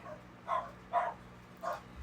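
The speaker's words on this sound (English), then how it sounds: "Those are my dogs." Several dogs give three short barks spaced evenly apart at a moderate distance, with a quiet background between them and no talking.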